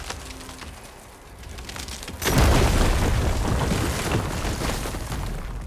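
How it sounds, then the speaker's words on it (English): In Horizon Forbidden West, an object blows up with a sudden, loud, close boom after a quieter stretch, then a sustained rumbling roar and debris noise that slowly eases off. "These things always explode so violently."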